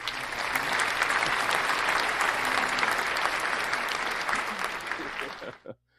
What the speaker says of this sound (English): I think I got that applause a little too loud from our studio audience